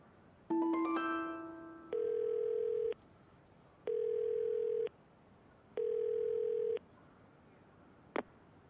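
Payphone in the video game Yakuza 0: a tonal chime of descending notes, then three steady, evenly spaced dial-tone beeps about a second each, ending with a short click.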